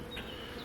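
Honeybees at a hive hum in a steady, close, continuous buzz, a brief dense swarm sound with no voices over it.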